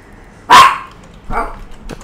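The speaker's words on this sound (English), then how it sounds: "My dog's in the background, you could hear her." A pet dog barks in the background with one loud, sharp bark followed by two softer, shorter yelps, each separated by a short pause, with no voices over them.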